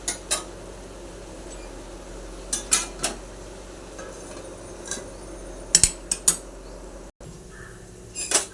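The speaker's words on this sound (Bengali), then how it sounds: "এটাকে আবার নেড়ে চেড়ে এরপর আবার ঢাকনা দিয়ে দেবো" Half-cooked cabbage in a pot for a fish-head dish is stirred, with sharp metallic clanks of a utensil against the pot and a lid set down, sporadic and close over a quiet hum.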